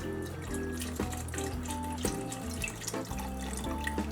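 Water pours steadily into a soup pot of Zuppa Toscana, a continuous splashing stream with soft music playing underneath.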